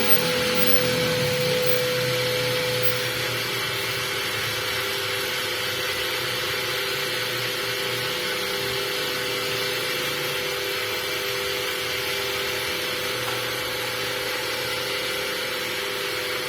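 A rotating machine hums steadily at a reduced speed of 2400 rpm, a continuous mechanical drone with no voices.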